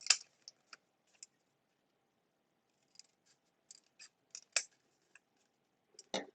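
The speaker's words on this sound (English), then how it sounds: "I'm just going to cut off some little strips" Scissors snip little strips from a sheet of paper, a close sequence of crisp separate cuts in uneven bursts with quiet gaps between them and no voices.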